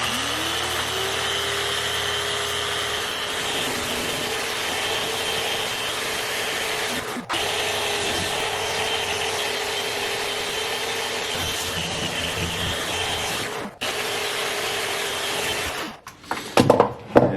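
Power sander running steadily on an engraved oak tabletop in a workshop, a continuous broadband whir with brief dips and a rougher, uneven stretch at the end.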